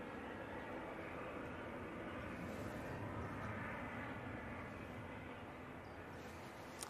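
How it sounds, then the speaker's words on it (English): TAP Portugal airliner taxiing past at Manchester Airport: a steady, fairly distant jet engine rumble holds at an even level throughout with no voices, swelling only slightly midway. "The TAP Portugal is on the taxi, just going past signature now."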